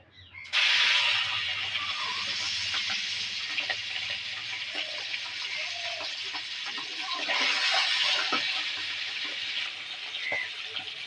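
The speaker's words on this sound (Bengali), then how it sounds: "তেল তেতে গেছে, ডিমগুলো দিয়ে দেবো তেলের উপরে।" Eggs hit hot mustard oil in a wok and set off a loud, steady sizzle that holds for several seconds. The frying swells once partway through and has small pops scattered across it.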